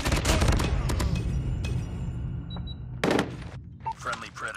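LK24 rifle in a first-person shooter game, firing sharp automatic bursts up close, with a dense opening volley, scattered single shots and a final loud burst, mixed with game sound effects.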